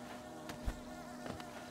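Bees buzzing in the video game Hollow Knight, a faint, continuous insect drone with a steady hum and a few soft clicks.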